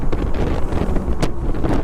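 Strong wind buffets the microphone in continuous loud gusts while riding a KTM Duke 250 motorcycle at about 50-60, a rushing roar with no talking.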